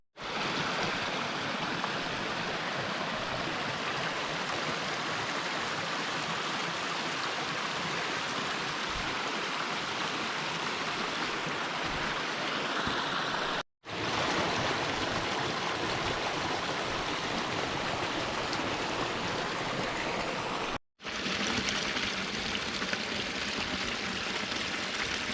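Steady rushing of a mountain stream tumbling over small waterfalls and cascades among rocks, a continuous broadband roar close by, broken by two brief cuts.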